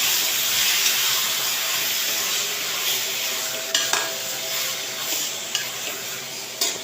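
Washed mutton intestines sizzle steadily in a hot pan while being stirred, a continuous hiss with occasional sharp scraping clicks from the spoon, close and fairly loud with no voices.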